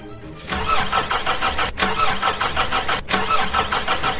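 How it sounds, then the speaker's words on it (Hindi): A car engine is cranked hard in loud, rapid rhythmic bursts with two brief pauses between attempts, close and alone with no talk, used as a dramatic sound effect in a narrated story. "ड्राइविंग सीट पर बैठते हुए उन्होंने कार को स्टार्ट करने की कोशिश की।"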